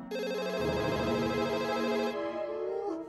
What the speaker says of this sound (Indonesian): kalau ada telepon berbunyi langsung diangkat tuh cepet say hello